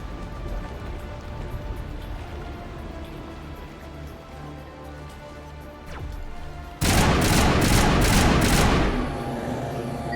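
Loud gunfire in Mass Effect, a sci-fi shooter battle: a steady clatter of shots that erupts into a dense, heavy burst of rapid automatic fire near the end, with no talk.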